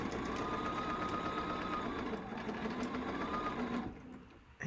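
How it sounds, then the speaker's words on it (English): A sewing machine stitches quilt pieces together with a steady, fast mechanical whir close by, running continuously before slowing and stopping near the end. "Let me sew this one on."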